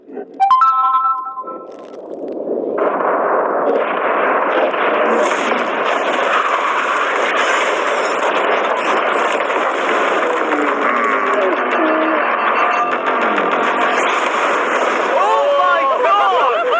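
A yacht blown up by an explosion, an abrupt blast followed by a long sustained roaring rumble lasting many seconds, with voices shouting over it.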